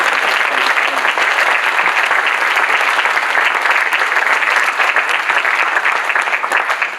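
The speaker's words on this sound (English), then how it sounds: "Can we give a big round of applause to everyone?" A school audience at a 100-day celebration gives a big, sustained round of applause, dense and loud from start to finish before easing slightly at the end.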